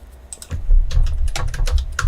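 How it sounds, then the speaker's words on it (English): Fingers tap quickly on a computer keyboard, close and crisp, with irregular clusters of keystrokes and no talking. "Just typing it in here."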